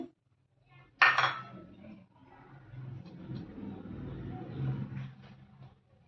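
Fresh ginger, green chillies, ajwain and coriander leaves go into a steel mixer jar for a nuchinunde breakfast: one sharp, close metallic clink, then several seconds of soft rustling and light clattering as the pieces settle, with no talking.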